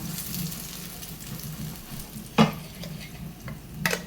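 Jackfruit pieces frying in ghee while being stirred, a soft continuous sizzle with a low rumble beneath and one sharp scrape of the spoon partway through, close by and without voices.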